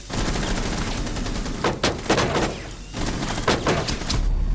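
Gunfire in a Rainbow Six Siege ranked match, a loud dense stretch of sharp shots and bursts over a constant game background, close and prominent.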